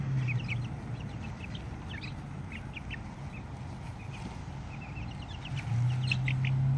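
Soft clucks and chirpy calls from a few chickens close by, over a steady low hum of background noise.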